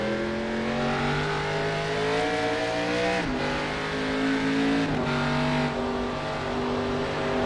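Race car engine in a racing game, shifting up early through the esses at Watkins Glen, droning loud and steady with pitch climbing and dropping back at each gear change, tires faintly squealing.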